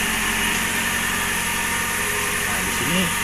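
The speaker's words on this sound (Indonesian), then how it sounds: "ketika udah mesin udah hidup" A car engine idles steadily after starting, giving a constant low hum and rumble close by. A short vocal sound breaks in near the end.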